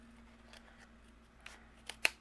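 Scissors trimming excess cardstock off a folded card base, a few soft snips building to one sharper, louder cut at the end in a quiet room.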